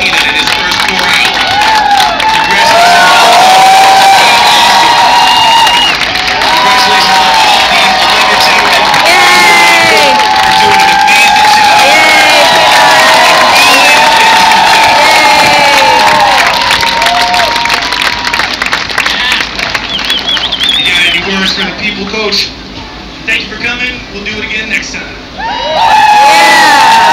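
A loud crowd cheers, whoops and claps for the winning team after a basketball final round aboard a 2015 Caribbean cruise, the roar sustained throughout with shouting voices mixed in and a brief dip near the end.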